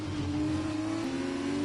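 The engine of an F2 race car in the F1 2020 video game during the Bahrain sprint race accelerates with a loud, close, buzzing tone that shifts pitch midway as it climbs.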